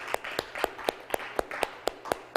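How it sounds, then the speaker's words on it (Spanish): Church congregation clapping for the Lord: a quick, regular run of sharp claps at a steady beat, about ten in a row, moderately close and fairly quiet, with no talking. "Fuerte aplauso al Señor"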